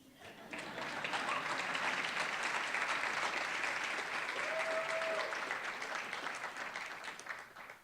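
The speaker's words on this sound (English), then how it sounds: "You can clap for that." Audience at an Islamic event in Los Angeles breaks into sustained applause, a dense wash of clapping that swells, holds for several seconds and tapers off near the end.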